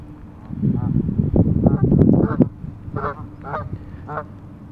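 Geese honking close by, a burst of overlapping harsh calls followed by several separate nasal honks, loud and outdoors.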